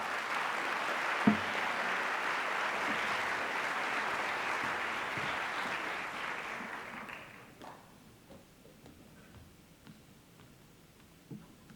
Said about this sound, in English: Please, can you give a warm round of applause to Joo-Hae Lee, who is our grade 8 Master of